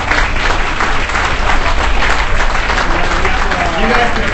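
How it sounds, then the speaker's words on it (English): Steady applause from a banquet audience at an awards ceremony, continuous dense clapping throughout without a break, fairly loud and close, with faint voices mixed underneath. "You guys can applaud away in a second."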